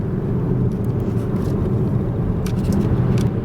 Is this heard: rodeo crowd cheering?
no